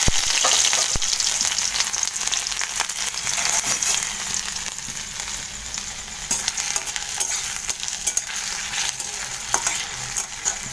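Boiled garlic and dried red chilli fry in hot oil in a wok for an okra mash, a steady bright sizzle running throughout with occasional stirring clicks and scrapes, close and alone with no talking.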